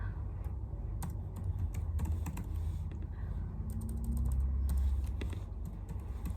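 Rapid, uneven keystrokes on a computer keyboard, a close and clear run of clicks over a low steady hum, with no voices.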